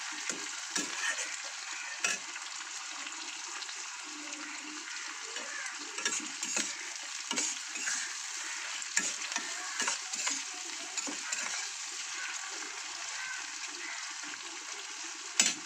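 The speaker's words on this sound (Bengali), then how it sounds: "চিংড়ি মাছটা আমি আজকে আর আলাদা করে ভেজে তুলে রাখিনি, ফোড়নের সঙ্গেই ভেজে নিচ্ছি" Prawns fry in hot oil with a whole-spice tempering in a pan, a continuous bright crackling sizzle broken by repeated spatula stirs and scrapes, close up with no voices.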